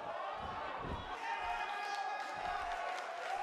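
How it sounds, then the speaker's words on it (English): Excited arena crowd noise from the WWE 2K18 wrestling video game, set in Uniondale: a steady, fairly quiet roar with a few louder swells, while commentators talk over it. "I don't think I've ever heard this Uniondale crowd more excited for a match."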